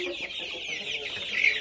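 One-month-old chicks cheep in a close, continuous chorus of thin high peeps, fairly soft and unbroken, with no talking.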